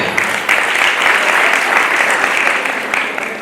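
Audience applause at a Jain religious gathering marking an acharya's installation day in Gairatganj, a dense, steady clatter of many hands clapping together for the full span, loud and close.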